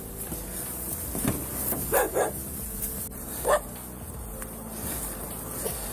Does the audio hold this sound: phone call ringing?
no